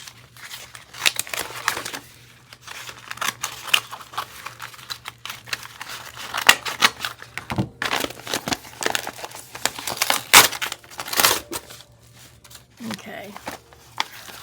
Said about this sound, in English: rip the envelope open